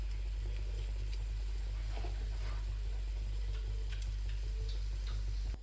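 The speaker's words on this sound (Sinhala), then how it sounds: "තෙල් එක රත් වෙලා ඒක සුදු ලුණු ටික දාගන්න." Garlic, curry leaves and chillies frying in hot oil in a pan, a steady close sizzle with scattered ticking crackles and pops over a constant low hum, then an abrupt cut at the end.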